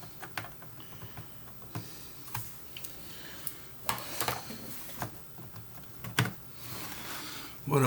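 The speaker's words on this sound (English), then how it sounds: "Keyboard." Keys tapped on a Commodore 128 computer keyboard during diagnostic testing, sparse irregular clicks and clacks at close range, some louder strikes, with quiet background noise between them.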